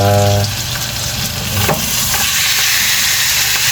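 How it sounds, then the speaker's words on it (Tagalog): Loud, steady sizzling of pork chops frying in a hot pan, with crackles and pops throughout and a brief low hum at the start. "Hindi masyadong prito."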